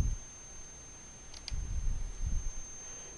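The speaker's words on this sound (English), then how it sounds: "I'm going to click Save." Two quick, faint mouse clicks sound close together against a quiet room with a steady faint electronic whine, and nobody speaks.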